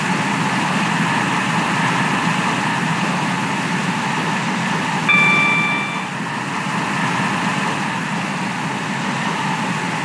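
A passenger train in the Roblox-style railway game Stepford County Railway runs along the line with a steady, continuous rumble and hiss. Brief tonal notes sound near the middle, and no one speaks.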